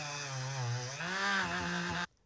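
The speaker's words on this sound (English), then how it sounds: "Put the little wire brush on this Dremel. Then I'm just going to stick it right in there and let it do its work." A Dremel rotary tool fitted with a small brass wire brush whines steadily up close as it cleans grooves in a motorcycle part, its pitch dipping slightly and shifting once before it cuts off abruptly.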